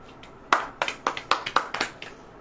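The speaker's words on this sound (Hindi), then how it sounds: "ताली बजाइए।" Church congregation clapping in response during a sermon, about eight sharp, separate claps in a loose rhythm, close and clear against quiet room tone.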